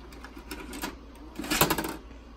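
A Toshiba VCR ejects a tape with a quick series of faint mechanical clicks and whirs, rising to a busier clatter of gears partway through, close and quiet.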